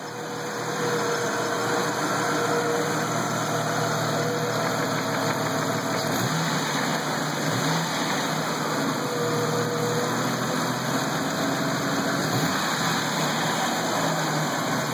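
A loud, rough-sounding Jeep Cherokee engine runs close by with a steady, throaty rumble and slight swells in pitch.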